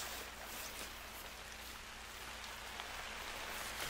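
Steady, dense rain from The Hunter: Call of the Wild, a hiss that fills the scene near a lake, constant and fairly loud throughout with no voices.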